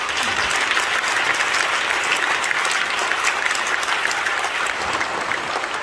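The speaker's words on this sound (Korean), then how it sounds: "뜨겁게 박수해 주시기 바랍니다" Loud, sustained applause from delegates at a Korean Holiness church general assembly greeting election candidates, a dense continuous clatter of many hands.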